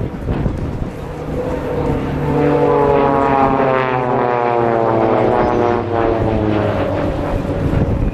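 Two Swiss Air Force Pilatus PC-7 propeller planes of a display team cross at an air show, producing a loud droning propeller roar that builds and sweeps past with a falling pitch.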